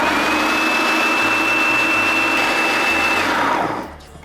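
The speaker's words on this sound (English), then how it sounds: "Just gonna give it one more blend on high." A blender runs steadily on high, whirring loud and close as it purees beet hummus, then spins down and cuts off near the end.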